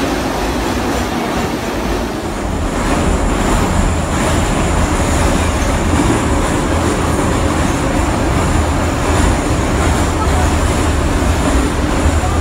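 A subway train in the Yerevan metro rumbles loudly and continuously, its steady roar and rattling wheels filling the carriage with a faint high whine above, with a voice briefly audible under the noise.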